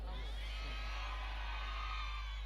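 Church congregation shouting amen at a Sunday evening service, a dense, distant roar of many voices blending together over steady low hum.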